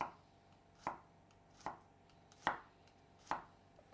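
A knife slices garlic thinly on a cutting board, four crisp, evenly spaced taps about a second apart in a quiet kitchen.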